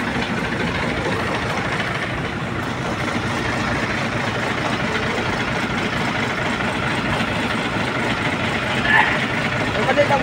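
A bus engine idles just after being started, a constant, dense diesel rumble that stays level from start to finish, with faint voices underneath.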